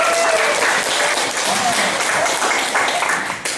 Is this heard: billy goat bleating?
no